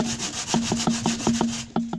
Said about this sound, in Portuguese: Mesmo que eu use essa lixa sem pra cimento, a gente se mata aqui